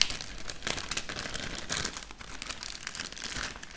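Quiet, close crinkling and tearing of foil Pokémon card booster packs being opened by hand, a run of irregular crackles and rips with no voices.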